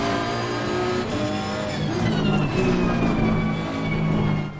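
Ferrari race car engine in the racing game Assetto Corsa Competizione, a loud sustained high-pitched roar with shifting tone through a corner, close and continuous, other engine whine faintly layered beneath.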